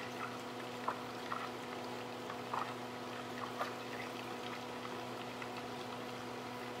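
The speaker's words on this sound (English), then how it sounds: "I'm hoping that you do hear all this sizzling." Butter sizzles while browning in a pan for blondies, a faint continuous crackle and hiss over a steady low hum, with a few soft pops standing out.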